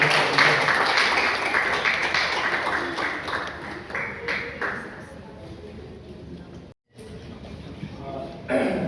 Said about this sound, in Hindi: वो जोरदार तालियों से स्वागत करते हैं सीनियर